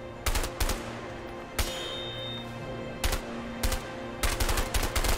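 Gunfire from the video game A Way Out: several sharp bursts of rapid machine-gun shots, loud and close, separated by short gaps, with a low steady hum underneath.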